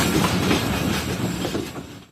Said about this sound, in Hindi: हमारी ट्रेन यानी कि 1 up Khyber mail express ZCU30 6307 के साथ पहुंच रही है रोड़ी जंक्शन रेलवे स्टेशन पर